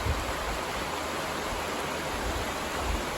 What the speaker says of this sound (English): Our campsite is right by the creek here.